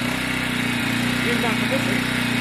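Kawasaki cafe racer motorcycle idling with a steady low exhaust rumble and even engine pulses, close and constant throughout, with faint voices underneath.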